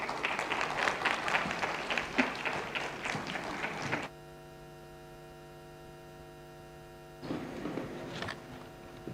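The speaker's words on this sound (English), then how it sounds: "A round of applause, please." Audience applause at the Africaribbean Trade and Investment Forum 2022 fills a hall in dense, steady clapping, cuts off for about three seconds of plain electrical hum, then swells again briefly.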